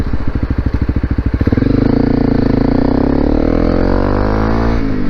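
A Honda CRF250L Rally motorcycle with an FMF exhaust accelerating hard from a stop, loud close engine pulsing into a steady rising roar.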